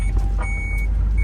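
A van's warning beeper sounds in short high tones while braking, over a steady engine rumble, close and fairly loud.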